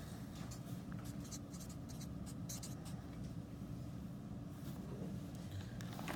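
Writing on paper to label a tempera paint technique sample: soft, close scratching strokes come in quick irregular bursts over a faint, steady room hiss.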